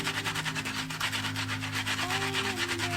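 A makeup brush scrubbed back and forth to clean it, giving a fast, rhythmic bristly rubbing close up, steady and alone with a faint tonal hum underneath.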